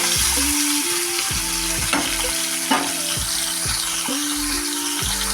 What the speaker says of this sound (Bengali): মাছগুলোকে আমি এবার ভেজে নেব হালকাভাবে